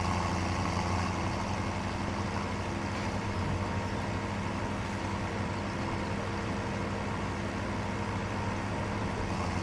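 Blue tractor engine in Farming Simulator 17 idling at a steady low rumble, even and continuous throughout, with no talk over it.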